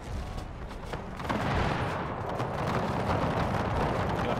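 Massed musket volleys rake British troops in the Napoleon: Total War Era mod, a dense, continuous crackle of gunfire that swells louder after the first second and rolls on without pause.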